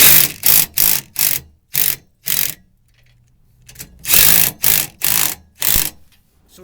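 Ratchet wrench tightening galvanized half-inch carriage bolts with diamond washers on a Ford Transit bumper step: loud, close bursts of rapid clicking, six quick strokes, a pause, then five more.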